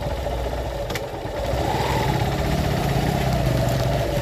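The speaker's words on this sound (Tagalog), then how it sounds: "Ito yung aking motor, pang rugged itong motor ko dito" A rugged-use motorcycle engine idles nearby, a steady low mechanical chug that picks up slightly and holds even, with a brief faint knock early on and no talk over it.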